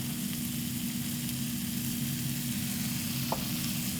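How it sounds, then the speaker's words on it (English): Onions fry in a pan with meat juices and oil from a rib eye steak, a steady close sizzle and crackle running throughout with a faint low hum beneath and one small clink near the end. "Now, using the meat juices to cook up the onions."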